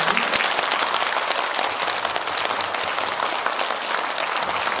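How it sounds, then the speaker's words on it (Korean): A Buddhist dharma assembly audience claps for the great monk, a steady, dense round of applause at even loudness lasting the whole stretch, with no talking. "큰 스님께 다시 한번 큰 박수 한번 부탁드립니다."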